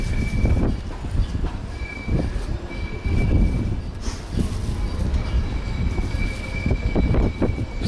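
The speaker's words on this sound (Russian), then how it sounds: "Этот трамвай пиши." A tram passing through a street in Istanbul, rumbling and clattering on its rails with a faint wheel squeal, moderately loud and sustained with no speech.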